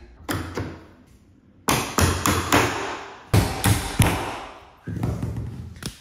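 Sharp hammer taps on wooden door shims, several clustered strikes in uneven groups with short pauses, close and fairly loud, no talking.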